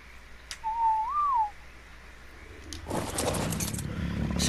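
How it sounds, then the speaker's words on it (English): In ARK: Survival Evolved, a player gives one short wavering whistle as a command to tamed creatures, clear against a quiet background, followed by a burst of rustling, clattering noise. "if you're riding a creature and you whistle a command"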